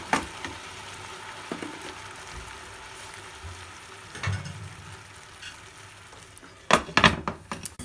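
Vermicelli kheer with milk and sugar gently cooks in a pan, a faint steady simmer and sizzle broken by a few spoon-stirring clinks near the end.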